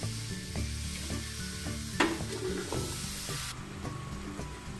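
Gourd leaf tips and potatoes dropped into a hot pot for Sylheti shutki sheera sizzle and fry steadily, with a sharp clatter midway and a bright hiss that cuts off near the end, no talking.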